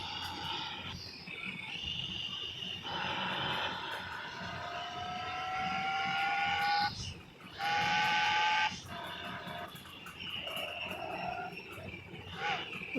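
A car engine runs steadily in the Car For Sale Simulator video game, a sustained mechanical drone with tonal harmonics that swells and dips briefly midway, with no talk over it.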